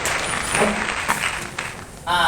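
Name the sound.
class applauding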